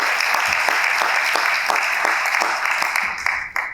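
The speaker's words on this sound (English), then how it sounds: "If we could give them a big round of applause as well." Audience applause at an affordable housing for seniors event, a dense, even spread of many hands clapping throughout, fairly loud and close before tapering off at the end.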